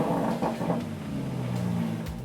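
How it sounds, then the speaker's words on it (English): A 2019 Aston Martin DBS Superleggera's quad exhaust revs and growls with a deep, throaty note, loud and close, swelling briefly before settling. "The hills are alive with the sound of a perfectly perforated British quad exhaust"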